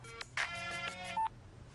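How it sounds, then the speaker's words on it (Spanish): A telephone gives a short series of electronic tones and beeps indoors, fairly clear and close, with no talking. "El teléfono no ha parado de sonar."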